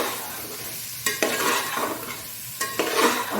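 Spice masala of ground black pepper and garam masala being stirred and fried in a pan for egg biryani: a steady sizzle punctuated by two bursts of scraping stirring, close and clear, with no talk.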